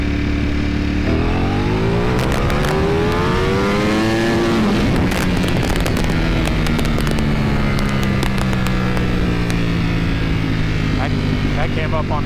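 A Ducati Panigale V4 motorcycle makes a loud, close first-gear pull, its engine note climbing steadily in pitch with rising harmonics before dropping at a shift and revving on, with wind roar throughout.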